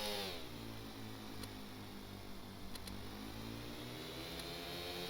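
A modular engine in the Stormworks Build and Rescue game runs with its clutch engaged, giving a steady rough mechanical drone with layered harmonics and a few faint clicks. No one speaks over it.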